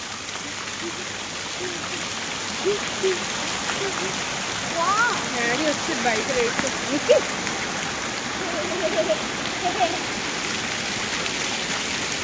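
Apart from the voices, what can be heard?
water flowing from a park fountain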